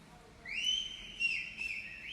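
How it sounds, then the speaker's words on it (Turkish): Whistling from fans gathered below a balcony during a live broadcast: a few drawn-out, fairly faint whistles, rising and sustained, with one sharper burst partway through. "Duyuyor musunuz ıslıkları? Protesto ediyorum bu ıslıkları."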